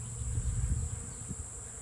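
A low, steady insect drone fills the air, the hum of many honeybees buzzing close by in a bee yard, with no voices.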